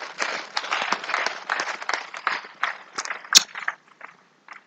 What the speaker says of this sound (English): A beautiful round of applause for all the women and mothers in the